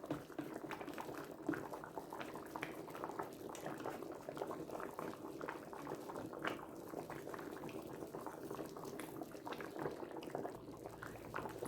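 Seafood gumbo simmers in a pot, a steady continuous bubbling and gurgling of thick liquid that holds at an even, moderate level throughout with no talking.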